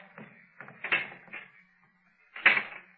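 A secret door beneath a king's palace opens as a 1938 radio drama sound effect, with a series of short creaks and scrapes followed by a louder final grinding burst, close and dry.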